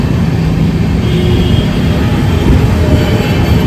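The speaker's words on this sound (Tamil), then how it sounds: "மேலே பாருங்கள் மெட்ரோ போயிட்டுருக்கு" A Bangalore city metro train rumbles past overhead, a loud continuous low roar of wheels and carriages heard from nearby, with no voices over it.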